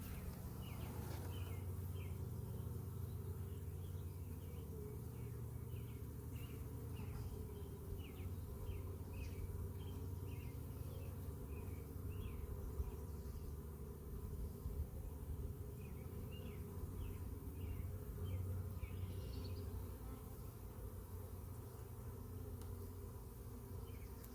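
A low, continuous buzzing drone of many honeybees close by around a hive, with faint chirps in the background throughout.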